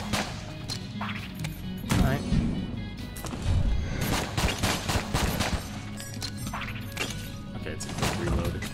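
Rapid gunfire from guns in the video game Enter the Gungeon, bursts of sharp shots and impacts coming in clusters over layered game sound effects, fairly loud and continuous.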